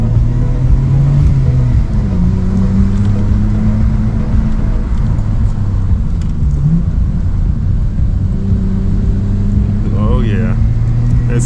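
Nissan Skyline R34 GTR engine downshifting on the Mt Fuji hillclimb, a steady loud drone whose pitch steps and slides as it moves through the gears, with a voice talking over it.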